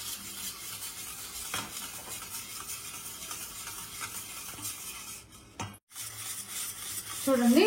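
Yogurt being stirred smooth in a wide bowl for perugu vada, a steady close scraping and swishing that runs continuously, briefly dropping out near the end before a louder stir returns.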